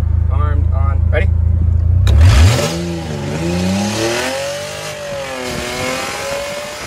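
Mercedes SLK on nitrous accelerating hard from a slow roll, engine roaring up through sweeping revs after a loud burst, heard close from inside with talking at the start.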